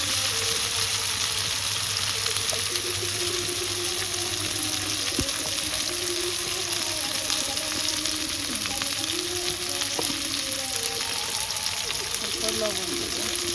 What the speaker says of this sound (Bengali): টমেটো আলু ভাজি